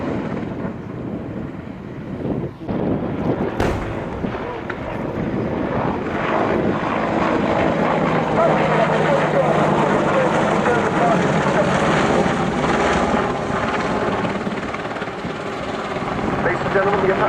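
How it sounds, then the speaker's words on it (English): Apache helicopter performing a manoeuvre at an air show, a loud, continuous rotor and turbine roar with wind buffeting that swells and holds steady throughout, with a voice talking over it. "the Apache is now completing 160-degree maneuver"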